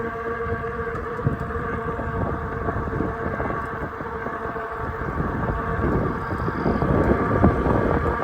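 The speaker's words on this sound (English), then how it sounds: "Really windy today though" Wind buffets the microphone with low, rumbling gusts over the steady mechanical hum of a moving Hanover ride, growing slightly stronger toward the end.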